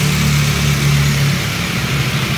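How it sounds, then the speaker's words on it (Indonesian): A car engine idles smoothly after a manual ECU reset, giving a steady, loud, even hum with a low throb that holds unchanged throughout, with no voices. "Mesinnya pun menjadi halus."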